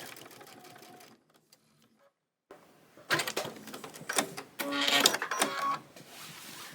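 Sewing machine stitching around a Halloween mini quilt, starting with a few soft clicks and handling noises, then a loud close run of fast continuous stitching that speeds up and carries on to the end.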